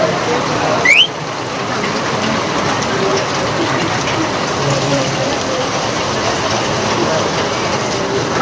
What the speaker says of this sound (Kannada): ಮಳೆ ಸಕ್ಕ ಜೋರಾಗಿ ಬರ್ತದೆ.